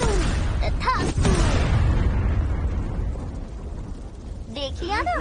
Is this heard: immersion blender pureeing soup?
no